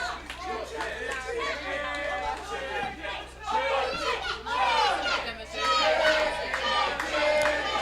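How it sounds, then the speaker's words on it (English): A loud wrestling-event crowd roars and chatters without pause, swelling louder in the second half with excited shouts and cheers. "You can hear the crowd"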